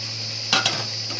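A soft, steady sizzle of tomato paste and cashew paste frying with salt in a pan, with a quick pair of stirring scrapes in the middle.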